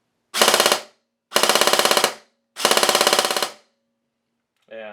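G&G airsoft gun with its factory motor and an 11.1 volt LiPo battery, firing three short full-auto bursts of fast, evenly spaced mechanical shots, each with a buzzing gearbox whir. The bursts are loud and close, with silent gaps between them.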